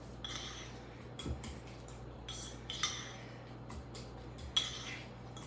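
Green onion appetizer mixture being mixed in a bowl with a utensil, making soft irregular scrapes and occasional light clinks against the bowl, quiet and close.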